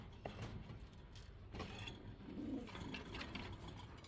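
Domestic pigeons coo softly in a coop, with a low throaty burble rising midway through faint background noise and light mechanical clicks.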